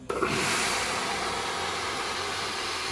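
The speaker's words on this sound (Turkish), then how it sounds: "düğmeye bastığımızda tazikli bir şekilde buhar çıkartıp içerisindeki kireci ütü atıyor" A steam-boiler iron releases a strong pressurized blast of steam to flush limescale, starting with a sharp burst and continuing as a loud, steady roaring hiss.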